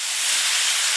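Water poured into a hot iron wok where beef hide is frying, sending up a loud, close burst of steady steam hiss.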